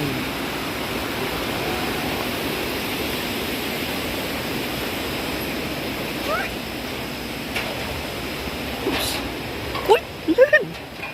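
Waterfall flowing beneath a bridge at a zipline park gives a steady, moderate rushing hiss throughout, with a few brief knocks and a voice briefly near the end.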